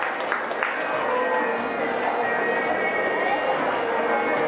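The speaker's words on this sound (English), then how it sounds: "a round of applause, please, everybody" An audience at a performing arts certificate awarding claps and murmurs steadily and continuously, a loud, even wash of hands with crowd noise mixed in throughout.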